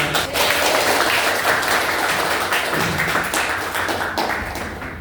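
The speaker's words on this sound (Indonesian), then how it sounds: "Beri tepuk tangan dulu buat kelompok 5" Schoolchildren in a maths class applauding a group after its presentation, a loud, crowded round of clapping that stays strong and fades slightly at the end.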